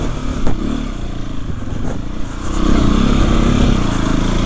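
A small Yamaha DT motorcycle on a Surrey byway runs steadily close by, its engine note rising and growing louder in the second half as it revs and pulls, with some clatter over the rough track.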